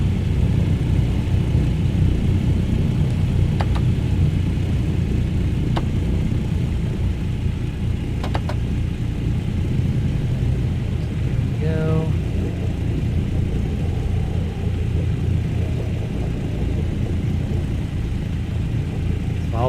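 Twin piston engines of a DC-3 taxiing in Microsoft Flight Simulator, a steady, loud, low rumbling drone with a few faint clicks and a brief warbling tone.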